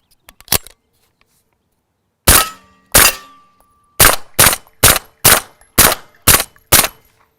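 A suppressed CMMG Banshee 9mm fires at steel targets. Sharp, loud reports come as a few separate shots and then a steady string of about eight evenly spaced cracks, each ringing briefly off the steel, with quiet between them.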